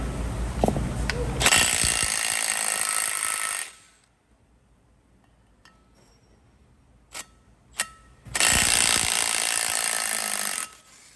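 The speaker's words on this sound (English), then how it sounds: "And now we need to remove these 5 bolts right here. Our next tool is 13mm." A power ratchet spins out 13mm bolts on a Ford Transit's front brakes: two long, loud buzzing whirs separated by quiet, with a few sharp metallic clicks between them.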